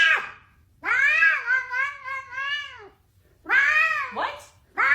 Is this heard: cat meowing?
yes